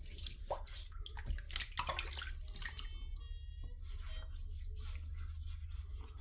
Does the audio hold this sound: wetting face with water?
yes